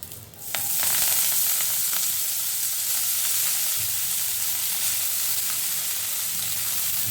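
Asafoetida and fenugreek leaves sizzle loudly in a hot pan, a steady dense crackle that swells after a sharp opening hiss and holds on without talk.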